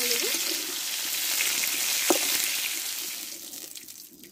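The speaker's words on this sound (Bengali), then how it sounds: "দেখো পটলটা ভালোভাবে আমি কষে নিয়েছি।" Pointed gourd (potol) frying in oil gives a steady, close hiss of sizzling with a few soft stirring scrapes and no voices.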